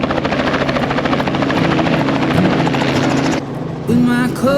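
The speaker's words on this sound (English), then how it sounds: "We're about to go for a helicopter flight up over the area for 45 minutes with Northwest Helicopters." Loud, close helicopter rotor thumping and turbine whine from a Northwest Helicopters sightseeing flight, steady until it cuts off abruptly near the end, followed by a brief voice.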